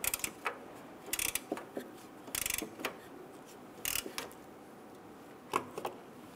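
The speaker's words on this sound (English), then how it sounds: "we're gonna go ahead and tighten down the ones on the driver's side" A ratchet tightens grille bolts on a 1997-2006 Jeep Wrangler in short bursts of rapid clicking, separated by pauses and quieter mechanical ticks.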